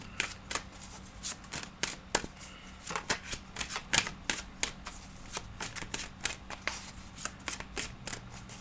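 Tarot cards are shuffled in a quiet room: a soft, continuous series of crisp riffling snaps and flicks, close by and fairly quiet, with a faint low hum underneath.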